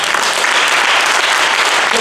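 Congregation at a French-speaking revival church service in Paris breaking into loud, sustained applause, a dense wash of clapping that fills the room evenly from start to finish.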